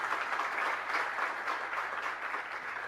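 Audience applause at a spiritual discourse, steady dense clapping from a crowd filling the whole stretch without a break, moderately loud and with no talk over it.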